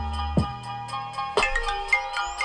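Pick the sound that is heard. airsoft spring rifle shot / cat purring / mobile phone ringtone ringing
mobile phone ringtone ringing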